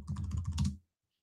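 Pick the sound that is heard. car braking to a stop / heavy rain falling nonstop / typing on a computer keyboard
typing on a computer keyboard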